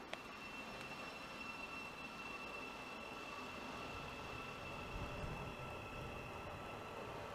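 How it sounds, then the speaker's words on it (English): A train pulls away from Hitchin station on the East Coast Main Line, a faint steady rumble with a thin high motor whine and slight swell as it heads off, no talking. "And it's now departing off to its next stop of Letchworth Garden City."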